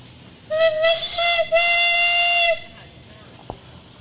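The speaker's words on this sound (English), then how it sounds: "How about a whistle?" A steam engine whistle on a parade float, forged from big iron, gives two long high-toned blasts with a brief break between, loud and close, followed by a faint click.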